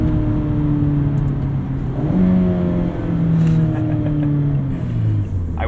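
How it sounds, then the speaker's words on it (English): A 2017 Mazda MX-5 Miata engine accelerating through the gears, loud and close from inside the car, with rising revs, a shift, and another climbing pull, and no talking. "the engine does sound better in these 2017 cars."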